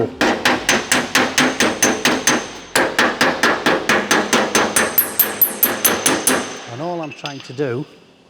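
Rapid, sharp hammer blows ring on metal against a dolly in a steady rhythm, leveling welded arches on a 1984 Porsche 911, close and loud, pausing briefly before continuing, ending with a few ringing taps.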